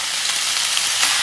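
Chicken pieces for a chicken stew hit a hot pan and set off a steady, hissing sizzle that stays loud and even over a brief moment, with no voices.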